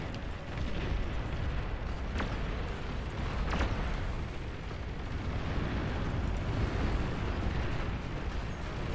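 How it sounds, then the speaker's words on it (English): EMP missiles launching and detonating in the real-time strategy game Beyond All Reason: a constant rumbling wash of distant explosions with a couple of brief sharper bursts, steady and moderately quiet. "They can't be launching that many EMP missiles"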